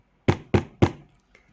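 Three firm, evenly spaced knocks on the door of an old house, close and distinct, with a faint fourth tap trailing after.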